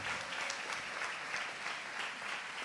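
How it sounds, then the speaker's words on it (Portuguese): A church congregation applauds during a worship service, a steady, even wash of many hands clapping together, moderately distant and unbroken, with no voices standing out. "Você pode aplaudir ao Senhor bem forte?"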